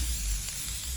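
Black lacquer sprays steadily onto an acoustic guitar body, a continuous close hiss that stays at an even level without pauses.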